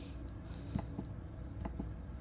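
Mouse clicks in photo editing software while picking a gray point for an Orion Nebula image: a few quick, close clicks in pairs, about four in total, over a low steady background hum.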